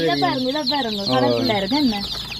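A village chicken clucks close by in a quick series of short, bright calls, with a person speaking alongside.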